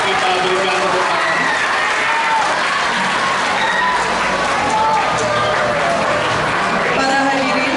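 Sustained loud applause from a crowd at the official opening ceremony of a Catholic kindergarten, primary and junior high school, dense clapping steady throughout with a few voices mixed in.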